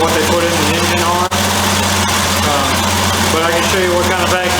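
A rebuilt engine in a 1983 Jeep CJ5 idles on a freshly adjusted carburetor, a steady close rumble running throughout with someone talking over it.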